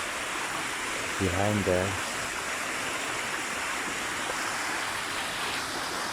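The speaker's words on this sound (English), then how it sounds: "It's a small waterfall, like this." A small waterfall beside a cave at Goa Tetes, next to Tumpak Sewu in Sidomulyo, Pronojiwo, Lumajang, gives a steady, even rush of falling water throughout, with a voice speaking briefly near the start.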